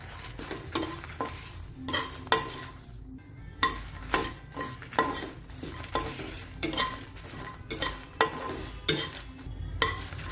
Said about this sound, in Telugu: ఇప్పుడు వీటిని కూడా డ్రై రోస్ట్ చేసేసుకుందాం ఆయిల్ లేకుండానే ఇవన్నీ ఫ్రై చేసేసుకోండి